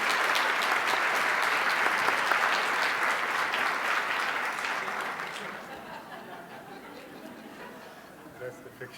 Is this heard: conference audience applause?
yes